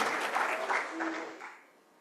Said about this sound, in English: Can we clap for all the people we've had that have made this day and this conference very good?